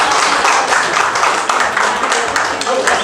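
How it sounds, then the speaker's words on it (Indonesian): Audience applause at a school event for a teacher presentation, dense steady hand clapping from a crowd lasting throughout, loud and close with no pauses. "Tepuk tangan Bapak."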